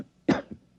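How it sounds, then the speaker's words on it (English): A man gives two coughs as a signal, one strong close cough followed by a softer second one, alone in a quiet room in a 1950s radio drama. "I'll cough twice, like this."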